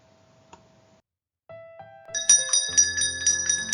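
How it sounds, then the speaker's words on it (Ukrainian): A school bell rings for the first lesson of the new school year, starting after a quiet pause and building into a bright, rapid metallic ringing that continues to the end. "для справжніх українців лунає перший дзвоник новому навчальному році"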